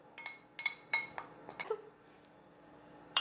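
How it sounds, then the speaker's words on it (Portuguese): Soft, quick clinks and taps of a utensil against a bowl as eggs are mixed for a baked cabbage gratin, a faint irregular series of light strikes in a quiet kitchen. "Os ovos, vamos misturar os ovos."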